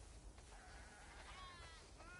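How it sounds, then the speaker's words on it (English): Several sheep bleat in a loose sequence of wavering calls, fairly close and moderately loud over a steady low background rumble, with no talking. "We definitely have way too many sheep."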